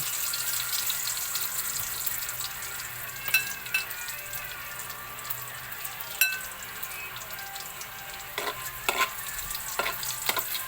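Garlic frying in a pan, a bright steady sizzle with scattered clicks and taps of stirring throughout.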